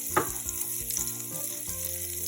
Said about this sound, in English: Now I am adding some butter. Let's give it a very good stir.